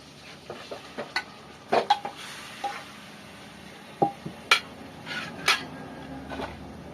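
Chicken pieces going into a hot kadai for a homemade chicken curry, with soft sizzling and a series of sharp spoon scrapes and clinks against the pan as it is stirred.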